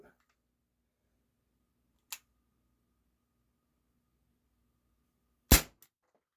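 A Sig Sauer P226 CO2 air pistol fires two separate loud, snappy shots with blowback, each a sharp crack with a small click just after, set apart by silence.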